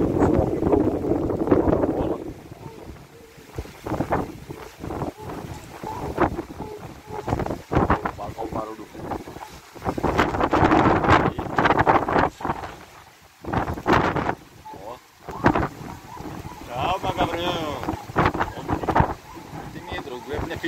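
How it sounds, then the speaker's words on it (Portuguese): Strong wind gusts in Goiânia batter the microphone in loud, irregular roaring bursts that rise and drop over about twenty seconds, with a person talking underneath at times. "Olha aqui em Goiânia, que a ventania está ali"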